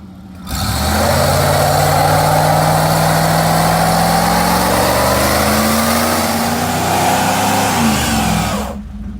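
A swap engine pulled from a donor car for an 1988 project, started and running loud and close, holding a steady rumble with a slight rise in pitch before it cuts off.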